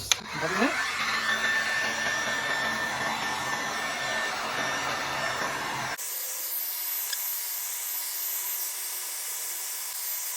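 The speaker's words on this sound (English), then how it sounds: "All right, let's hit it with the heat gun again." A heat gun blowing hot air over epoxy resin in a resin art pumpkin tray, a loud steady whooshing hiss that runs unbroken close to the mic, its tone shifting partway through.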